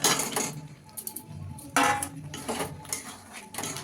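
Fried chicken being added into cooked masala in a pan for butter chicken, with repeated metal clanks and scrapes of a spoon against the pan in bursts, close and fairly loud.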